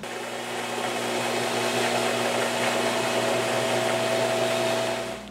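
An aluminum fidget spinner is sanded, producing a continuous, fairly loud whirring drone with a steady pitch that runs unbroken from start to finish.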